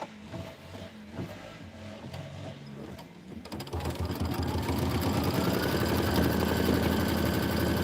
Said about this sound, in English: Go ahead and just let it do the decorative stitching